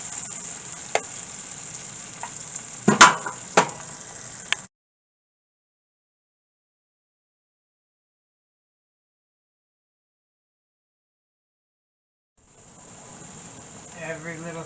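Tomatoes cooking down in a pot make a close, crackling sizzle with sharp pops, then a long stretch of complete silence before the bubbling sizzle returns.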